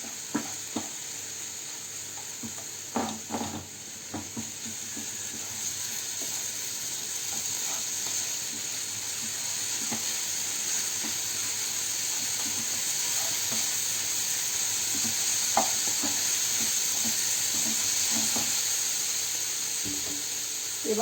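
Grated carrot cooking down in a pan as its water dries off, a soft, even sizzle with faint hiss and scattered small clicks of stirring throughout.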